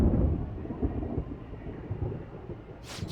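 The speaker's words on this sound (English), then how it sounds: "It sounds like it's going to rain." Thunder rumbles low and steady with rain falling in the video game Persona 5 Royal, a continuous dull roll that ends with a short hiss.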